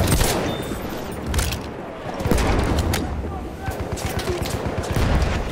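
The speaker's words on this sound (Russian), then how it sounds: "Вражеский пулемет! Вон там!" Machine gun fire in the Battlefield 1 video game: dense rattling bursts of distant and nearby gunfire with booms, mixed with shouting voices in a chaotic battlefield soundscape.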